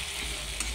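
Spice masala with meat masala, turmeric, salt and red chillies frying in oil for a Nepali meat gravy, a soft steady sizzle with a brief stirring scrape near the end.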